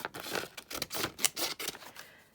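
Scissors trim a strip of paper for an autumn junk journal folio, a quick run of close, crisp snips and slides lasting a couple of seconds.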